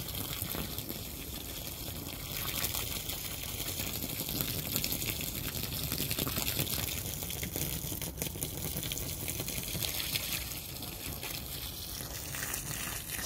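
Water from a hose or sprinkler soaking bare, barren garden soil, a steady broadband spray hiss that runs continuously at close range with no talking.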